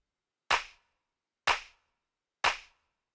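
Vintage drum machine snap layered with a soft, warm clap sample in a deep house style, three crisp percussive hits about a second apart, each fading fast into silence.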